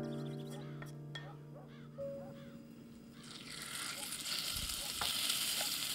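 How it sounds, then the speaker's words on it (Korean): Meat stir-frying in sesame oil in a heated pot, a soft sizzle that builds and grows denser and louder in the second half, fairly quiet overall. "고기를 볶아줍니다."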